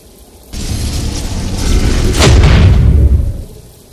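A fire-force spell blast in the Xbox 360 game Fable II: a sudden loud roaring burst that swells into a deep rumbling whoosh, peaks, then fades out after about three seconds.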